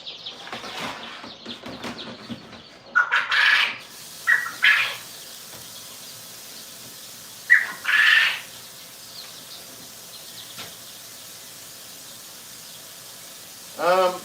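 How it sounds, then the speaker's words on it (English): Baby quail chicks chirp in short separate bursts of bright, high peeps, a few clustered together with quiet gaps between them and one more burst at the end. "No, quail don't crow. That's about the sound they're making right now."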